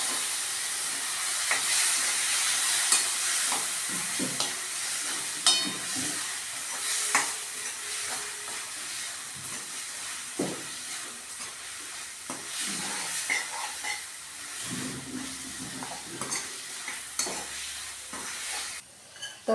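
Boiled drumstick pieces and potato sautéed in a pan, with a steady sizzle and hiss broken by repeated scraping stirs and occasional knocks of the spoon, close and fairly quiet.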